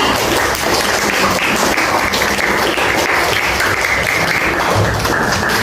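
A classroom applauds a student, Samira, after her presentation: dense, steady clapping from many hands, loud and close, continuing evenly for several seconds without talk.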